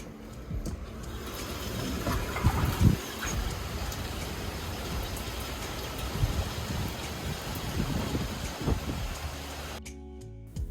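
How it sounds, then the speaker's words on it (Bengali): Heavy monsoon rain pours down steadily outside a residential building as a continuous broadband hiss with scattered louder splashes and drips, then cuts off abruptly at the end. No voices are heard. "আর অনেক জোরে বৃষ্টি হচ্ছে"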